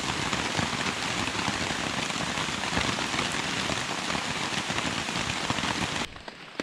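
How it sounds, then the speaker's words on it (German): Rain falling on a tarp at a jungle camp in the Ecuadorian Amazon, a dense, steady patter filling the whole clip before cutting off abruptly near the end, with no voices. "Und dann warten wir, bis es aufhört zu regnen."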